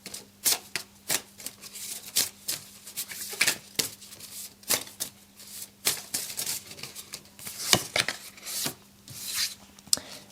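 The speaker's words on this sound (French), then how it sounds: "Il veut juste que je tire une carte personnage." Tarot-style character cards are handled and drawn from a deck, producing repeated close brushing, shuffling and slapping card sounds in an irregular rhythm, crisp and fairly loud, with no speech.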